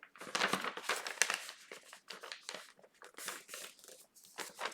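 A paper cross-stitch pattern is folded by hand, giving close, crisp crinkling and rustling in short irregular bursts with brief pauses between.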